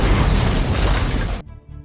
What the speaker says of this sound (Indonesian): John menaruh beberapa granat sampai mobil itu pun meledak